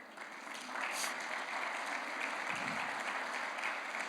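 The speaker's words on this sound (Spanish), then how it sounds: "Se merecen un aplauso, la verdad." Church congregation applauding steadily, a dense sustained clatter of many hands filling the room throughout, with faint voices beneath.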